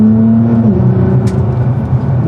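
A Nissan GTR engine runs loud and close through an aftermarket exhaust with no valves, a deep throbbing rumble with a brief rise in pitch before it settles into a steady idle-like drone.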